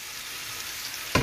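Apples frying in butter on a home stovetop give a steady, soft sizzle throughout, with a brief louder crackle or stir right at the end.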